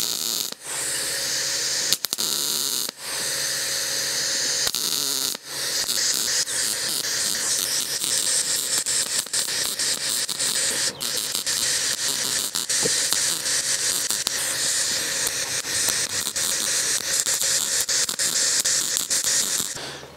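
A MIG welder lays short spot welds on a tacked steel panel of a David Brown 990 tractor, giving bursts of steady crackling sizzle and hiss with brief gaps between spots, close and fairly loud.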